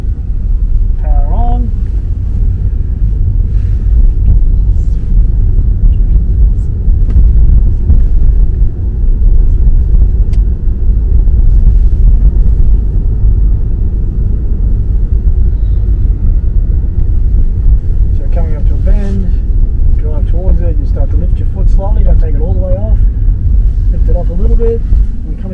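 A car on a test drive rumbles along with steady low road and engine noise, swelling slightly as it accelerates, while people talk over it in the cabin.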